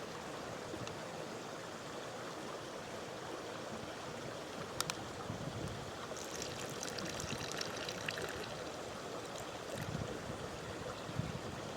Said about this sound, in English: I'm going to add in some water.